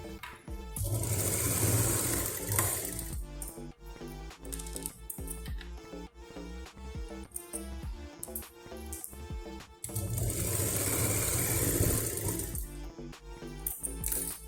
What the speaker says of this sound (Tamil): இங்கேருந்து இங்கே வரைக்கும் 2 தடவை ஸ்டிச்சஸ் போட்டு